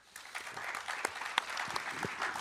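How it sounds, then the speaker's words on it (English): An audience at a roundtable on loyalty and currencies gives a short, fairly soft round of steady applause, a dense wash of clapping with a few sharper individual claps standing out. "Can you round of applause, please?"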